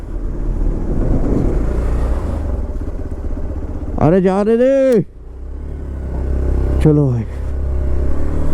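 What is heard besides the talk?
vehicle engine revving while getting unstuck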